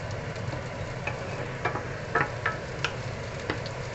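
Ginger being stirred with beef in a frying pan, a steady, low sizzle running throughout with the occasional soft scrape or clink of the spatula, close and fairly quiet, no voices.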